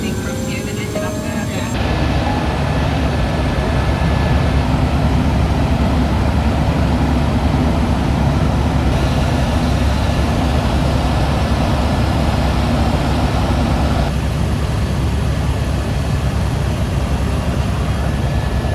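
An old, rudimentary helicopter in flight on the way toward Mt. Everest Base Camp in winter, giving a loud, steady, dense engine and rotor roar that fills the whole clip after a brief lighter opening.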